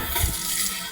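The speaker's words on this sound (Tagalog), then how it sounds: "mag-washing tayo ng ating motor. Dito sa may ilog." Running, splashing water as a motorcycle is washed beside a river, a steady broadband wash of spray and flow filling the short moment with no voices.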